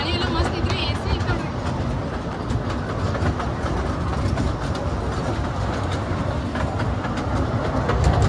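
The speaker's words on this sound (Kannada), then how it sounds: "Haripriya express train" The Haripriya Express passenger train runs at steady speed, a loud, continuous rumble and rhythmic clatter of wheels on the rails heard from inside the carriage.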